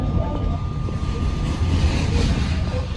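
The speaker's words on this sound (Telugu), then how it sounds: "మన బస్ ఇప్పుడే స్టార్ట్ అయింది." A bus engine starts and rumbles steadily at close range at an airport, a low continuous drone with faint background chatter.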